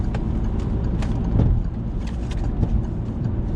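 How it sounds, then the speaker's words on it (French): A car engine hums steadily in fourth gear as the learner driver eases onto the road and accelerates gently during a driving lesson, the drone close and even with slight swells, and no one speaking. "Allez, on accélère tranquillement."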